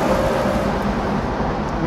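McLaren F1 supercar at full throttle, a loud steady broadband engine and road roar holding continuously close up with no pauses.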